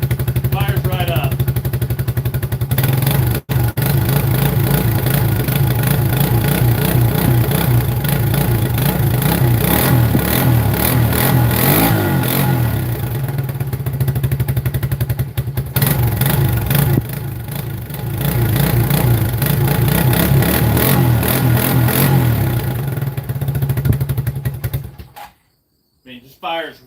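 A small engine fitted with a cheap Chinese carburetor runs steadily and loud for most of the span, a constant droning idle with some speech-like chatter overlapping, then cuts off near the end.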